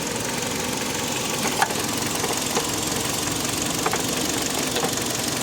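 A 2011 Kia Sorento SUV engine idles with a steady mechanical hum and faint ticking, as its air conditioning compressor clutch engages while refrigerant is added, with no voices.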